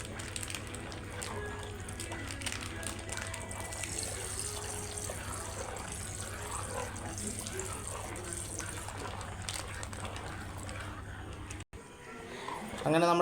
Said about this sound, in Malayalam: ഒരു ശകലം പാലൂടെ ഒഴിക്കുകയാണ്.